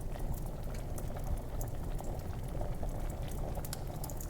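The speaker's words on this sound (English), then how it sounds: "Do you want to pour water into the fireplace and put it out?" Water poured onto a fireplace fire in the video game Deep Sleep: Labyrinth gives a dense, continuous bubbling sizzle, steady and fairly close, with no voices over it.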